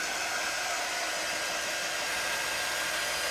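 Hair dryer blowing steadily on a journal cover, a loud, constant broadband whoosh held at near distance for the whole stretch, with no voices.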